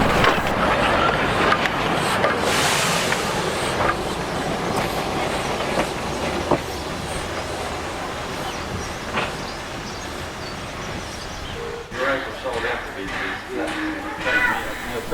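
Gabriel, a vintage Peckett 4-4-0 steam locomotive built by Thomas Peckett and Sons in Bristol and weighing 28 tonnes, rumbles along with steady clickety-clack of wheels on rails and a brief squeal, close and loud, with a voice talking over it.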